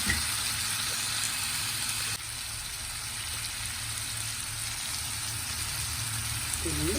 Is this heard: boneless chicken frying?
yes